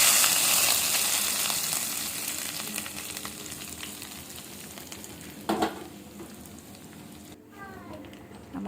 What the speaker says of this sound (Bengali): এখন আমি এই তেল সহ মাংসের মধ্যে ঢেলে দিব।